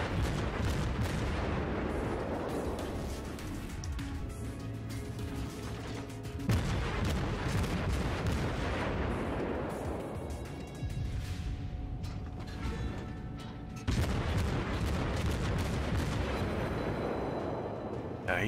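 World of Warships battleship main guns firing in three heavy, booming salvos spaced several seconds apart, each a loud blast trailing into a long rumbling decay, with creaking mechanical turret sounds between them.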